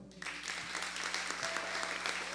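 Sustained applause from a church congregation during an evening service, a steady wash of clapping at moderate volume with a faint low hum beneath.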